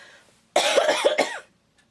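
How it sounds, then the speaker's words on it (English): A single short burst of coughing, a few rough hacks in quick succession, close and clear against quiet. "I picked up a cough"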